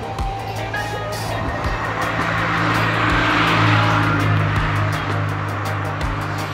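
A Honda Civic approaches and drives past on a Jamaican road, its engine swelling to a peak midway and then fading, with steady traffic rumble in the background.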